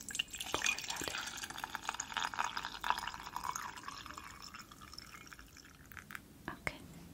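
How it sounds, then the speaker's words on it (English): Hot water pouring and trickling into a cup for tea, soft and close in a quiet indoor setting, with faint drips and light handling noises throughout. "I have some hot water, and I'm just gonna pour that in."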